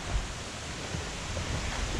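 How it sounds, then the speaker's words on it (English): Wind roars across a lake around a small bass boat, a steady broadband rush with faint low buffeting and no voices. "Oh, and it is windy."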